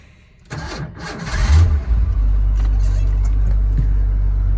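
A 1986 Ford F150 4x4 with a hydraulic clutch cranks briefly, catches and fires up, then settles into a loud, steady idle close by.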